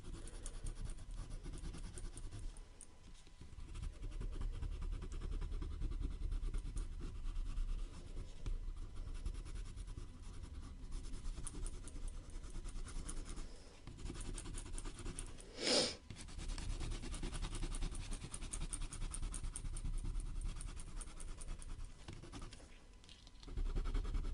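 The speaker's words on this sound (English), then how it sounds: "using the edge, the side of the pencil rather than the tip of the pencil" Colored pencil rubbed on paper using the side of the lead for blending, a continuous close scratchy shading texture over about twenty seconds, with one sharp brief tap midway and no talking.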